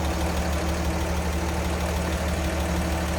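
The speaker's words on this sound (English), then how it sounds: "And how smooth that runs. 235 inline 6." A 1953 Chevrolet Bel Air's 235 inline-six idles steadily and smoothly, a continuous close low engine hum with an even rumble throughout and no voices.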